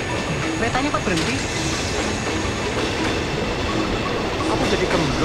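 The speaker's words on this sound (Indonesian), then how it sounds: "Kereta nya kok berhenti?" A train rumbles and clatters at Kosambi station in Indonesia, a loud continuous rolling rattle with faint wheel squeals, while people talk nearby over it.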